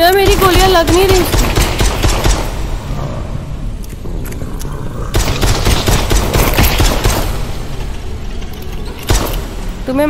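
Bursts of rapid gunfire in the VR zombie shooter Propagation VR, loud and close, with a voice speaking between volleys.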